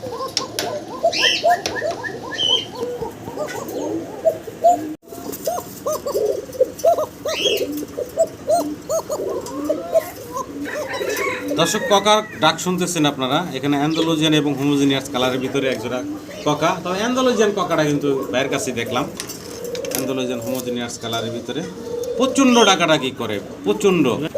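Pigeons kept for sale at a wholesale pigeon seller coo and call in the background, clearest at first and then partly covered by someone talking steadily close by.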